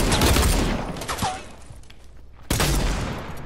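Dense bursts of gunfire from a Fortnite match, loud and close, with a rapid fusillade that fades into quieter game noise before a second strong volley near the end.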